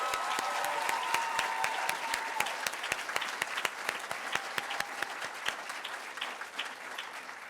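Audience at a senior school closing ceremony applauds a graduate, steady dense clapping filling the hall with sharp individual claps standing out, sustained throughout at moderate level.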